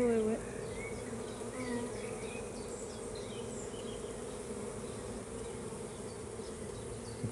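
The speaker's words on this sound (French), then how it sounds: "il y a une dizaine d'abeilles qui tournent autour d'elle, qui s'occupent d'elle" Honey bees buzz in a dense, continuous drone around an opened backyard beehive, many insects close by at a steady level with individual bees whining past.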